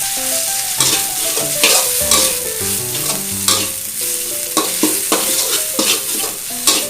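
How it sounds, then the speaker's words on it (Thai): Pounded garlic, coriander root and black pepper stir-fried in about two tablespoons of oil in a pan, with a steady close sizzle and repeated spatula scrapes and knocks in an uneven rhythm, no voices. "กระเทียมรากผักชี พริกไทยนะครับที่เราโขกไว้เมื่อสักครู่นี้ ผัดให้หอมๆก่อน"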